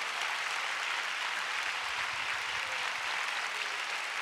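A church congregation claps together during worship, a dense continuous wash of clapping heard from within the crowd at steady loudness throughout.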